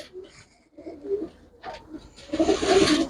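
Pigeons cooing in short soft bursts, a few separate low calls close by, ending in a louder flurry that may be wing flaps.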